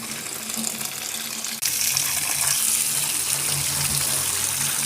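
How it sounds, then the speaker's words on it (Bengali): Water drains from freshly boiled noodles in a rushing, hissing pour. It starts moderately, then turns abruptly louder and fuller for the rest of the stretch, with no talking. "পাত্রের মধ্যে রেখে দিলাম যেন পানিটা ঝরে যায়"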